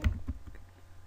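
Computer keys struck while a router configuration command is typed, a brief cluster of soft clicks, heaviest at the start and tapering off quickly, close and fairly quiet with no talking.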